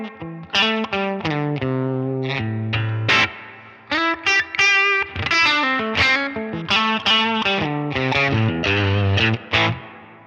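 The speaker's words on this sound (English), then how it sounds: "We still have a really nice reverb that isn't taking up a whole bunch of sonic space" Distorted electric guitar plays a busy melodic riff through a Helix reverb with narrowed high and low cuts, a spacious but restrained tail, loud and continuous throughout.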